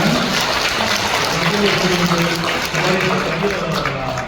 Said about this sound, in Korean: 큰 환영과 감사의 박수 다시 한번 드리도록 하겠습니다